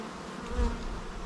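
Honeybees buzz at an open hive frame holding pollen early in the season, a close, continuous droning hum with a brief low bump midway.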